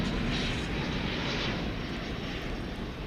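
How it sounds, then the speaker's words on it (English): American Airlines Airbus A321 departing at night from DFW Airport, bound for Boise, Idaho; a broad, steady jet engine roar at a distance, slowly easing off without any voices. "American 1104 is off to Boise, Idaho. It's an Airbus A321. And off it goes."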